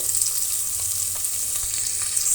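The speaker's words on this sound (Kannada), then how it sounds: "ಈಗ ಇಷ್ಟೂ ಫ್ರೈ ಆಗಲಿ." Onion and asafoetida frying in a pan for Brahmin-style bisi bele bath, a steady close sizzle with faint stirring scrapes throughout and no voices.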